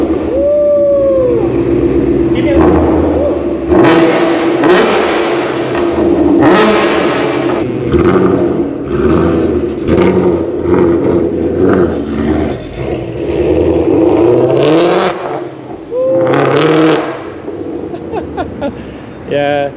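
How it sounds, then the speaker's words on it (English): A 1000 hp car's exhaust revs several times during a test drive, loud rising and falling roars close by with sharp bursts in between, while people talk over and between the revs. "I never let you guys hear the exhaust sound."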